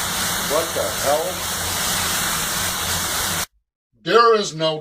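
Water splashes from a flooded heater as a steady, rushing gush under a voice, then cuts off into silence before a person speaks up close.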